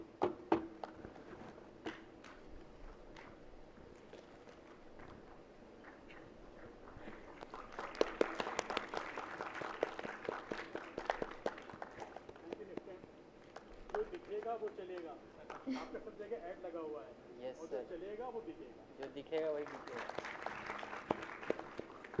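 Audience applause at a food startup panel discussion, faint, scattered clapping that swells and fades in bursts, mixed with voices talking and a few shuffling footsteps.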